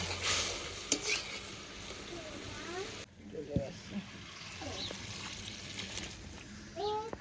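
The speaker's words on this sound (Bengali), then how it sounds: "এবার তেলটা গরম হয়ে গেছে সর্ষেটা ফোড়নে দিয়ে দিলাম" Mustard seeds sizzling in hot oil, close, with a loud spoon scrape partway through, while someone talks over the frying and a voice is faintly heard.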